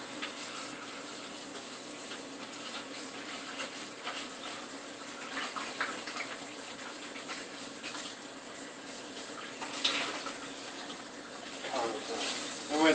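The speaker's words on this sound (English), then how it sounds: "Let me rinse this out." A dish rinsed under a running kitchen tap while baking a cranberry frangipane tart, a steady, soft rush of water with occasional splashes, and a voice talking now and then.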